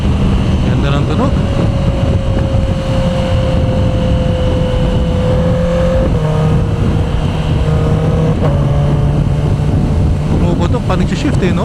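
Honda CB650R E-Clutch naked motorcycle cruising on an expressway, steady engine drone with gear shifts around six and eight seconds, heavy wind rush throughout and a voice speaking over it.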